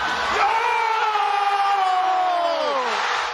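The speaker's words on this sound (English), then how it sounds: "The Toronto crowd went from cemetery silence to ear-shattering as the ball finally fell in." A huge Toronto arena crowd erupts in a sustained, ear-shattering roar at an NBA playoff game, loud and continuous throughout, with a single whooping voice rising above the mass of noise.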